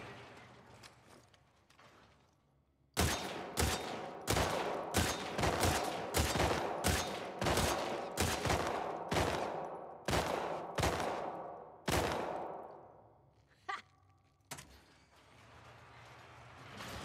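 Gunfire rings out in a shooting competition in The Last of Us Part II. About a dozen loud, evenly spaced shots fire in quick succession, then there is a pause and a couple more isolated shots.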